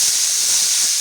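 Bitter gourd frying in the same oil just used for tilapia fish, a steady bright sizzle and hiss that holds even and loud with no talk.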